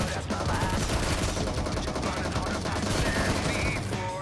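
Gunfire from PUBG Mobile rattles continuously in dense, loud automatic bursts over a steady game soundscape, with a faint voice mixed underneath throughout.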